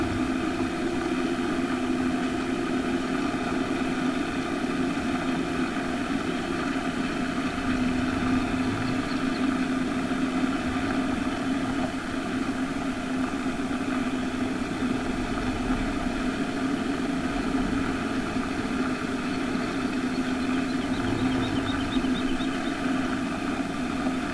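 A tractor's engine idles steadily close by, a continuous low rumbling drone with no change in pace throughout.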